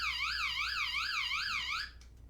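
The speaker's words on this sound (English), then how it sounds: "Oh, they got the safety alarm too." A safety alarm on a product sounds a loud, rapidly warbling electronic siren tone that rises and falls steadily for about two seconds, then cuts off.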